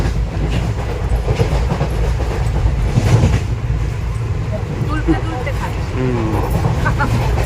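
The Kolkata–Silchar Express speeds along with a loud rhythmic clatter of wheels and a rumbling carriage, while people talk faintly in the background.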